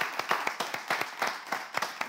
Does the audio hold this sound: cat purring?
no